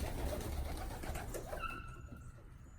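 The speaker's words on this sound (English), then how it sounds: "I always check under the pigeons because they're just right here next to the faucet." Pigeons cooing on a farm beside an outdoor faucet during morning chores, a soft, steady murmur of low coos with faint chirps over a continuous outdoor background.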